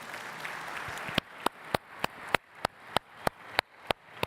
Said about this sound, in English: another round of applause for Annie I.